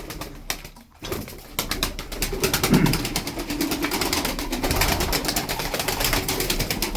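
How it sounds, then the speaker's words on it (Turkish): Turkish tumbler play pigeons in a coop, a dense steady murmur of cooing and fluttering close by, with a brief dip near the start and no clear talk. "Kuşlarımız güzel abiler."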